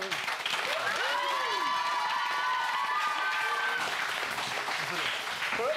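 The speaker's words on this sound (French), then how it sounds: "Et ils applaudissent, ils crient, ils sautent, ils dansent." A young crowd at a French music show claps and cheers together in a dense, continuous wave of applause with shouts rising over it, close and loud throughout, with no pause.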